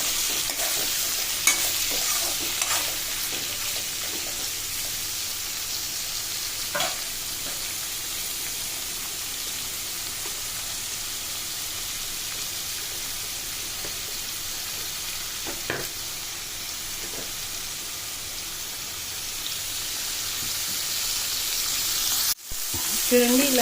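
Curry leaves and spices fry in hot oil for a Nellore-style snake gourd curry, a steady close sizzle with occasional stirring scrapes and a sharp knock near the end.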